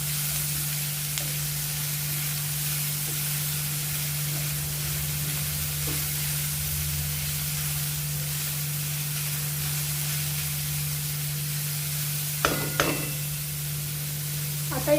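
Peas and grated carrot sauté in a pan for veg cutlets with a constant soft sizzle and a low steady hum. A couple of sharp utensil scrapes come near the end.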